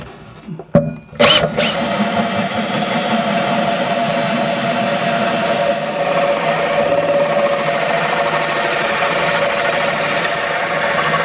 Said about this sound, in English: now we're getting ready to drill. I'm going to use a 3-inch hole saw